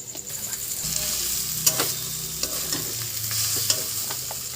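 Ingredients with ground sesame paste frying in a pan, a steady sizzle with scraping stirs and occasional sharp utensil clicks against the pan, close and continuous.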